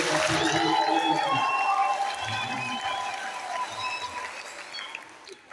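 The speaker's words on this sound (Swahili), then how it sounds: "tujikaribishe sisi wenyewe kwa shangwe na vigelegele" A church crowd at an Our Lady of Fatima family day bursts into cheering and high trilling ululation, loud at first and then tapering to a softer, continuing clamor with voices in it.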